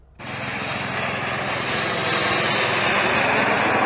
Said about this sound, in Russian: О, полетел еще один беспилотник.